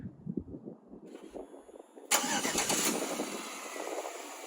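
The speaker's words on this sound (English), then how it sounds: "it is really nice for me to be able to start the car up before I get into the vehicle" A 2007 Chevy Tahoe engine starts by remote start: quiet rumbling, a faint electronic chime, then the starter catches and the engine fires with a loud burst before settling into a steady idle.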